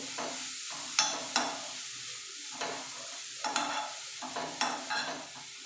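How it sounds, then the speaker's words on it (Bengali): Carrot and chhana payesh with ghee stirred in a pan on low heat, repeated spoon scrapes and taps against the pan over a soft sizzle, close and fairly quiet, with no speech. "এক দু মিনিট একটু নেড়ে নেবেন"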